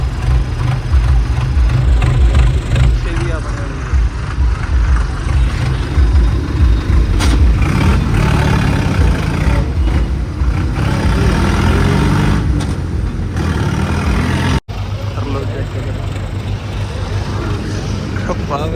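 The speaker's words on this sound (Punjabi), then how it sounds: "ਟਰੈਕਟਰ ਹੌਲੀ ਰੱਖਿਆ ਕਰੋ ਬਾਈ" A tractor engine rumbles steadily nearby, with people talking over it; the sound cuts out briefly near the end, then resumes.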